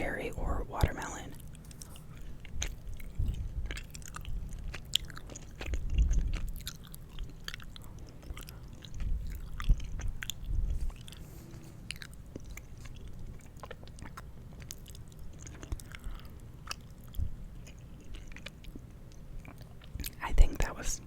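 Someone chews a Stitch-shaped gummy candy, cherry or watermelon flavored, close to the mic, with soft wet mouth sounds mixed into quiet whispering throughout.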